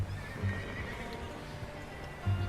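A horse in the video game Red Dead Redemption 2 whinnies while its hooves clip-clop steadily, close and moderately loud, with neighing bursts near the start and end over the hoofbeats.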